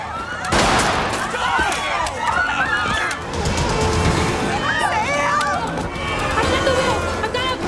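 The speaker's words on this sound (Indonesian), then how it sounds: "terjadi baku tembak yang gak sengaja bikin Sam, sang supir bus, tertembak dan terluka parah" Gunfire erupts during a tense action-film bus scene, loud bursts and shots layered over frantic shouting voices and a steady rumble of motion throughout.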